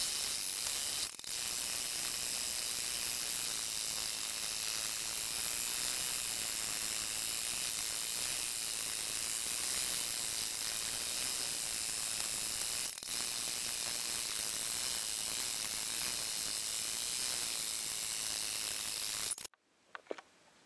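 A home embroidery machine stitches green thread for an appliqué snail design, a steady, continuous mechanical whirr with fine ratcheting clatter running unbroken for about nineteen seconds before stopping abruptly.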